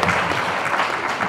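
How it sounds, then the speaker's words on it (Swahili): An audience applauding at a gathering, dense steady clapping from many hands that fills the room for the whole stretch. "naomba mpige makofi."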